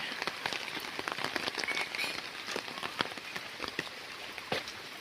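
Steady rain patters on a hard surface, with many sharp close drops tapping irregularly over a constant wet hiss.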